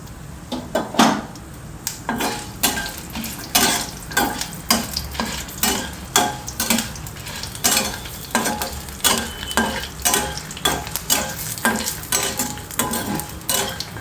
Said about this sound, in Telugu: ఇప్పుడు మనం కొన్ని జీడిపప్పులు కూడా వేసి ఆ మాత్రం జీడిపప్పులు వేసి వేయించుకుంటాం